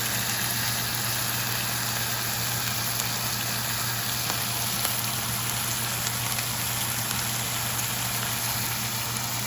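Thin-cut steak searing in melted butter, a constant even sizzle with a crackling, rain-like texture and a low steady hum underneath, no talking.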